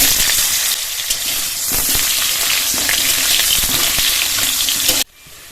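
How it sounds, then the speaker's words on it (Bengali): Potatoes sizzle loudly in hot mustard oil, a dense continuous frying hiss with crackles and stirring scrapes, cutting off abruptly near the end. "সরষের তেল দিয়ে দেবো আলু ভাজার জন্য।"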